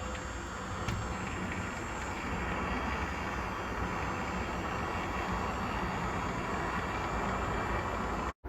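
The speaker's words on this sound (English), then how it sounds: "Now my smart window is open, as you can probably hear from the loud background noise as the cars are going up the road." Road traffic heard through an open window: a continuous broadband wash of passing cars driving up the road, fairly loud and steady with no speech, ending in a brief dropout.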